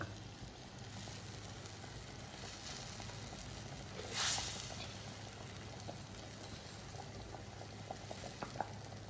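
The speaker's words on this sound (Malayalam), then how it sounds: "ഈ തിളച്ച മീൻ കറിയിലേക്ക് ഇട്ട് കൊടുക്കുക" Chilli fish curry boiling in a pot: a faint, steady bubbling simmer throughout, with one brief louder splash or hiss partway through.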